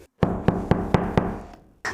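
Five evenly spaced knocks on a drywall partition wall, each a sharp hollow rap about a quarter second apart, close and fairly loud, then a brief pause before another knock begins.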